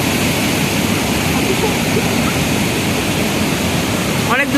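Water from the main stream of a waterfall pours down with great force, a loud, steady broadband roar filling the whole stretch, with a brief rustling disturbance right at the end.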